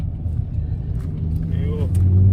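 BMW E60 M5 with its V10 engine rumbling low and steady while driving, building slightly in loudness toward the end, heard from inside the car.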